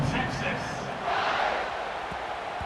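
A video-game stadium crowd at an American football game roars in a continuous loud wash, with a commentator talking over it.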